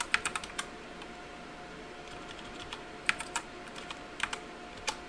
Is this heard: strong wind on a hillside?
no